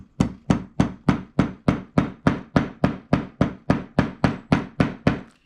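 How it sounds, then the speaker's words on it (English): A hammer taps metal snaps on a book cover in a rapid, even series of about fifteen sharp taps, close and loud, with no talking. "I'm just going to take my hammer, make some noise"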